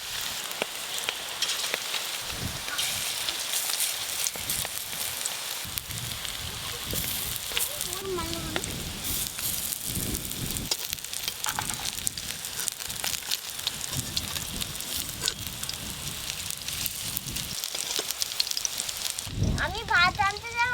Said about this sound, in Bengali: আজকে সরষের তেল দিয়েই ভাজবো চিংড়ি মাছের বড়া।